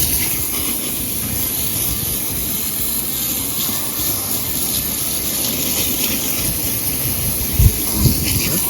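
Steady running water rinses cleaner off an RV bathroom surface, a continuous hissing spray that stays even throughout with a couple of brief knocks near the end.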